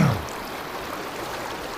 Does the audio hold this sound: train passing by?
no